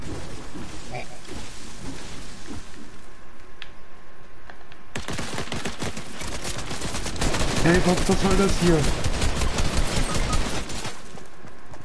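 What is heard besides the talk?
gunfire in a video game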